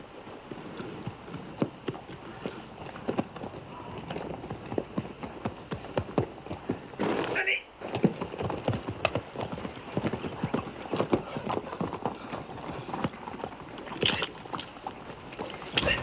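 Horses gallop across open ground in a western setting, their hooves drumming in a fast, irregular, continuous clatter at moderate distance, with a brief whinny partway through.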